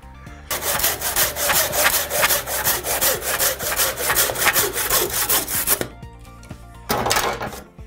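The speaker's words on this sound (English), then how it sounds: "Cut it using your handsaw." A handsaw cuts through a wooden pallet slat in a steady run of rhythmic back-and-forth strokes, close and loud, then pauses briefly before a short final burst of sawing.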